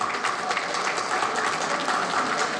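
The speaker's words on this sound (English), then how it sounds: "I request everyone to give a round of applause" A school alumni audience applauds in honour of a late brother who taught them, a steady dense clapping that fills the whole stretch at even loudness, with no voices rising above it.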